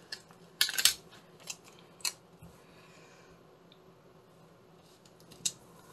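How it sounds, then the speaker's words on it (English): A few crisp scissor snips, spaced irregularly, with a quiet room background and no talking. "And I need my scissors."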